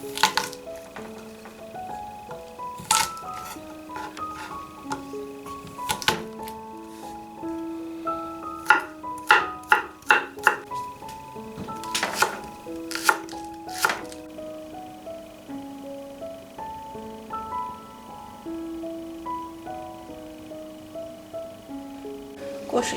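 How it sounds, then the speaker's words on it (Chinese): Garlic being minced with a knife on a board, with bursts of rapid close knife taps and chops in irregular runs over a faint tonal background, no talking. "蒜切末。"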